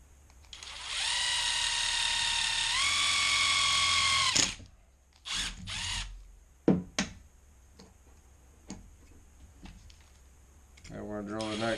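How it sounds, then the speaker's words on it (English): A power drill bores holes through a metal buzzbait blade held in pliers, a loud steady whine of about three seconds that rises in pitch midway, followed by a few short bursts and clicks. "Squeeze it real tight, and then we're going to drill these holes."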